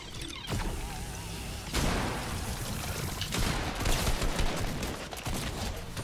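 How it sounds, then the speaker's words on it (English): Grenades blowing up in Fortnite, a chaotic run of crackling blasts and debris clatter with gunfire mixed in, loud and busy for several seconds. "He's blowing grenades from the bush."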